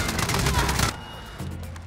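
Gunfire in the video game Call of Duty: Warzone, a dense loud burst of rapid shots that stops abruptly, followed by a quieter rumbling tail.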